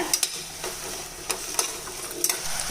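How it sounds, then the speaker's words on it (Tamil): A utensil scrapes and stirs through potatoes and vegetables frying in a pan several times, over a soft steady sizzle of frying. "இப்போ இதை நல்லா கலந்து விட்டுறலாங்க"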